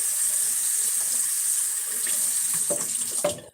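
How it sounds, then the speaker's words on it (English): Water runs steadily from a tap during cleanup of a lavender toy horse, a loud constant hiss and splash close by, with brief shifts near the end as the flow is disturbed, no voices. "In an effort to save water, I'll turn the water off."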